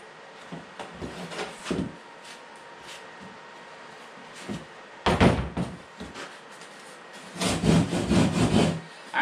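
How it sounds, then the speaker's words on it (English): Rough hand sanding along the side of a fiberglass-reinforced front bumper on a 2013 Toyota Corolla, heard as bursts of close, scratchy rubbing, sparse at first and then in longer, louder strokes toward the end, with no talking. "So I'm just gonna do a rough side sanding."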